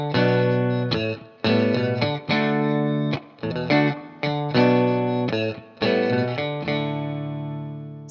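Electric guitar playing a three-note pentatonic riff over a rhythm part, with effects and chorus, in loud rhythmic phrases of repeated notes with short gaps.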